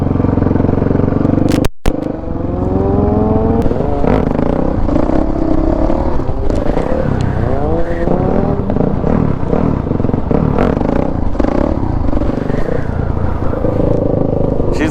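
A dirt bike or supermoto engine lugs at low revs on a closed course, a loud, close, rough chugging with wavering pitch and some clattering, interrupted briefly by a sharp break near the start.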